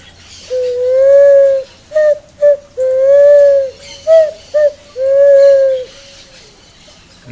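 A nasal whistle imitates the call of a picazuro pigeon (asa-branca): a series of soft, hooting coos in short phrases with pauses between, close and clear.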